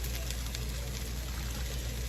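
Crown Royal apple-flavored whisky poured into a glass for a cocktail, a short steady trickle heard close over a constant low kitchen hum.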